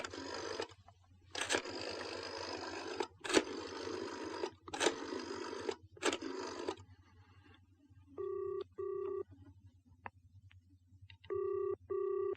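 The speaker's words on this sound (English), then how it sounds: "Look, I'm going to make a phone call." A telephone being dialed for a call: a burst of rapid rotary-dial clicks and scraping, then several short electronic tones in distinct blocks, close and moderately loud with no talking.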